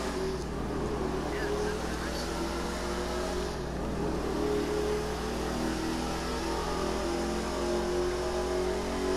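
A car engine accelerating during an airport drag race, droning steadily with a pitch that shifts partway through. Wind noise rushes underneath, and people talk over it.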